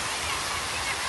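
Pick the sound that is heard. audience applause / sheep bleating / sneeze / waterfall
waterfall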